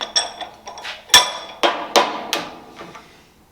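Sharp metallic hammer strikes on a metal part of a Jeepster, about eight irregular blows with ringing decay, several louder hits near the middle, close and clear with no talking.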